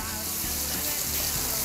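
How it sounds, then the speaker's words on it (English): Pork chops sizzle in a hot pan, a dense, steady, close frying hiss with no pauses. "Listen to this sizzle."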